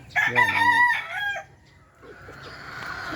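A fighting rooster, a derby winner, crows once, loud and close, a strained drawn-out call that fades into quieter background noise.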